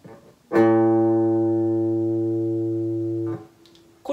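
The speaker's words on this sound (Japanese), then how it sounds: "5弦を鳴らしてみましょう この A の音と6弦の5フレット" A single guitar string, the open fifth string sounding A, plucked and ringing a steady bright tone for about three seconds before being damped, alone and close.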